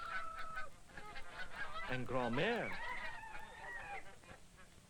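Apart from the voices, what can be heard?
geese honking on a Normandy farm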